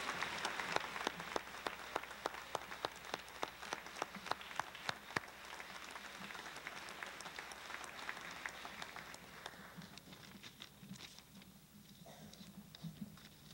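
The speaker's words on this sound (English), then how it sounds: "How about a big round of applause for all these principal award winners?" A crowd applauds award winners at a youth sports banquet, a broad wash of clapping with sharp individual claps standing out, fading toward the end with some murmuring voices underneath.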